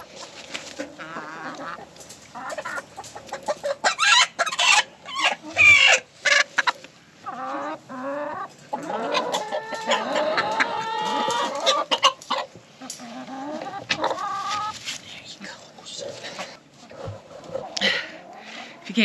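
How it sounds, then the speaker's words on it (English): Laying hens, rescue egg producers, clucking and squawking close by, a busy stream of short calls mixed with people talking. "They're laying hens, egg producers."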